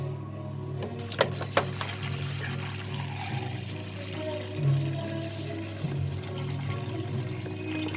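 Non-tap water is poured from a container into a dish while making a homemade fish food, giving a soft, steady trickle after a couple of light knocks.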